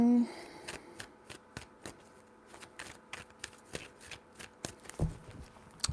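Tarot cards being shuffled by hand, a run of quick crisp riffling snaps and flicks in irregular bursts, close and moderately loud, with a brief voice at the start.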